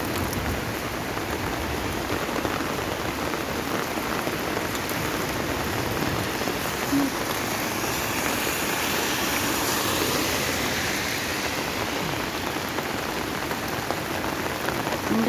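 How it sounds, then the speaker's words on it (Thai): Heavy rain pours steadily onto surfaces around village houses, a dense, continuous roar that holds its strength from start to finish with no talking. "ฝนตก"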